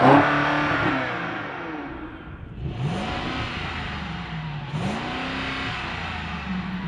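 The exhaust of a 2024 BMW X7 or Mercedes GLS luxury SUV, heard from outside, revs up twice in rising sweeps that fall back to a steady idle, fairly close and clear.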